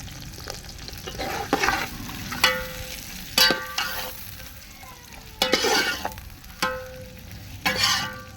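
Onions frying in a pan for chicken dum biryani, stirred now and then with a utensil, giving a steady close sizzle broken by several sharp scraping and clinking strokes, with no talking.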